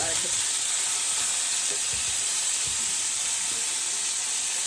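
Steaks sizzle and fry steadily in a hot pan on the stove, a constant bright crackling hiss with faint scattered pops, close and unbroken throughout.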